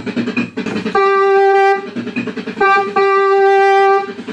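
Sustained chords from a 1979 Hammond Romance 126JM organ ring out in bursts, alternating with busier rhythmic passages, loud and close with a buzzy, reedy tone.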